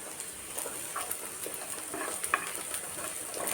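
Cashews and cumin seeds sautéing in a pan for restaurant-style methi matar malai, a soft steady sizzle with occasional light stirring scrapes, fairly quiet and close, no talking.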